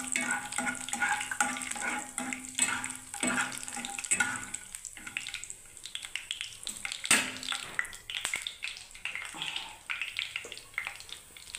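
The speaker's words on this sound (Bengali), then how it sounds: "দেখুন বন্ধুরা বাদামটাকে আমি এর মধ্যে ভেজে নিচ্ছি" Peanuts frying in a pan of oil alongside already-fried onion and curry leaves give off a steady close sizzle, with intermittent scraping and stirring clatter over roughly twelve seconds and no talking.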